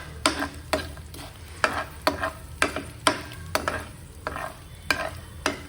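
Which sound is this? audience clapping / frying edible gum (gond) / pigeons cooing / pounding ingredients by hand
frying edible gum (gond)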